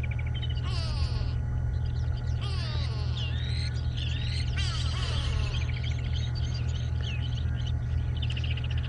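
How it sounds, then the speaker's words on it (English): Grey go-away birds calling in the bush during a sunset safari drive, several nasal, descending calls in bursts over the first few seconds, over a steady engine-like rumble. "Hello, grey go-away birds."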